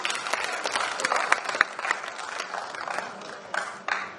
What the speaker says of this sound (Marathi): एकदा जोरदार टाळ्या पवनसाठी.